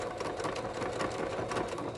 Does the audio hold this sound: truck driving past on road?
no